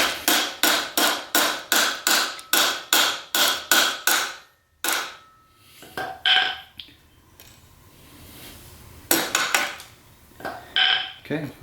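A tool is tapped hard against a 2016-or-later Fox Float bicycle fork to knock an internal part loose, making about a dozen sharp metallic strikes in a quick, even rhythm, then a pause and a few more scattered knocks.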